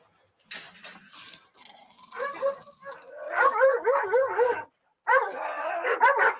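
Two dogs barking and yelping at a house at night during a burglary, in repeated close bursts with a short pause between them, with no talk over them.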